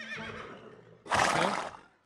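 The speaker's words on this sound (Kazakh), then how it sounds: "Көкпар шабатын жылқы ғой" A kokpar horse gives a loud, wavering whinny that trails off, then a short, harsh burst of breathy noise, heard close up.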